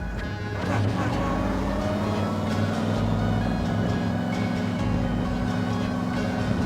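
A 1930s Alfa Romeo 8C Monza is driven from inside, its engine a loud, continuous droning roar with a pitch change as it is double-clutched from first into second gear.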